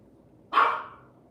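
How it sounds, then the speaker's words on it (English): A single dog bark rings out sharp and fairly close against a quiet background, then trails off. "I'm sorry that my dog is barking."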